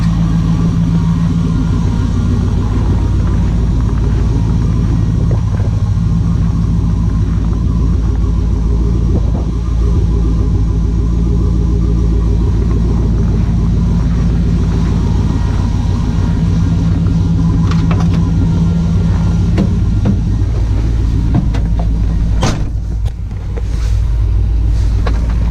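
An LS-swapped Chevrolet C10 truck engine, just started from cold, runs with a deep, steady idle rumble. It stays loud and unbroken throughout, with no voices.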